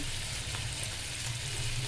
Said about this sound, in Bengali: চিংড়ি মাছগুলোকে একটু ভাজবো খুব কড়া করে ভাজবেন না হালকা করে ভাজবেন